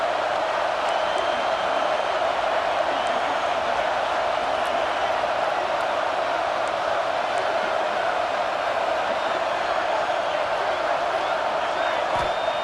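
A dense, steady roar from a stadium crowd in the EA Sports College Football 26 video game stays constant throughout, with faint whoops rising here and there.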